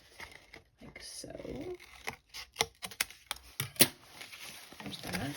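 Scissors snip through the paper ridges of a coffee cup sleeve in a quick run of crisp cuts and crinkles, close up, with a voice speaking briefly at the start and end.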